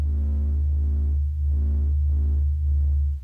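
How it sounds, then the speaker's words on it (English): Sped-up recording of the sun's oscillating pressure waves, a low continuous droning hum with a slow pulsing, throbbing swell, steady and enveloping with no voices. "This is the sound of the sun singing."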